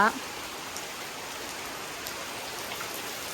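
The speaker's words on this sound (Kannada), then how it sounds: "ಊರಹಬ್ಬ ಟೈಮಲ್ಲೇ ಮಳೆ ಬಂದೈತೆ" Steady rain falls in a village during a local festival, a soft continuous hiss of drops that stays even and moderately faint throughout, with no talk.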